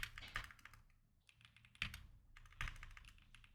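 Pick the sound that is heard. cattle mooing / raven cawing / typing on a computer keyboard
typing on a computer keyboard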